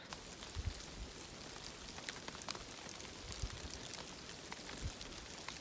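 Steady rain falls outdoors in Montana as a faint, even hiss, with a few louder drops and low thumps scattered through it.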